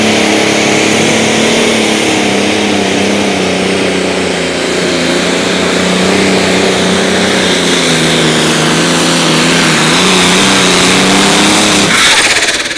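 A Limited Pro Stock pulling tractor, High Velocity Legacy Edition, roars at an outlaw tractor pull in Wisner, Nebraska, a loud sustained engine drone with rising and falling pitch throughout, close and dominant, with an announcer talking over it.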